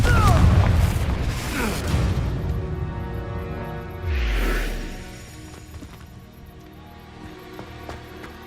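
A Confringo spell fired in Hogwarts Legacy bursts as a loud booming blast at the start, with a second deep low whoosh and rumble midway, then fades into softer game ambience.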